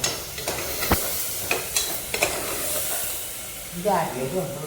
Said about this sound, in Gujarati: મસાલાનો વઘાર કર્યો